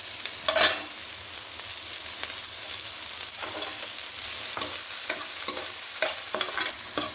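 Chopped onion sizzles in hot oil with boiled carrots and beans for a veg cutlet filling, a steady frying hiss broken by spatula scrapes and stirring bursts throughout, no voices.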